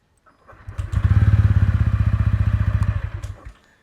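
A 2025 TVS Ronin motorcycle with silent-start technology fires up without starter whine, its engine catching into a loud, close, rapidly thumping idle for a few seconds before cutting off.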